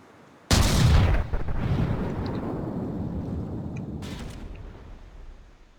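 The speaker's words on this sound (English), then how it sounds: "There goes another shell." A shell fired in a video game battle lands as a sudden loud boom that rolls into a long, fading rumble, followed a few seconds later by a second, softer shot.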